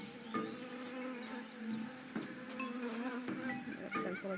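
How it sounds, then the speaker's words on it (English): Bees buzz continuously in a low, droning swarm in Tales of Monkey Island, with occasional faint clicks and soft game effects over the hum. "That sounds more like more bees."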